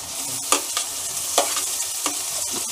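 Onion and tomato frying in a pan for a kohlrabi curry, a dense, continuous sizzle with a few soft scrapes and taps of stirring, close and without talk.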